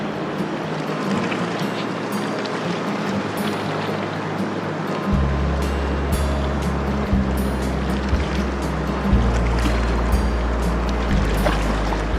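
A cold, powerful Himalayan mountain river rushes steadily nearby, its broad continuous roar filling the scene, with a deeper low rumble swelling partway through as the flow is heard close up.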